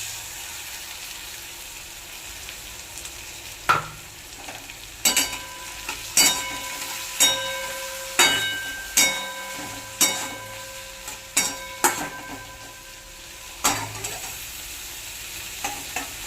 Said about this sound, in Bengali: করলাগুলো ঠিক এরকম ভাজা হয়ে গেল আর করলাগুলো সিদ্ধও হয়ে গেছে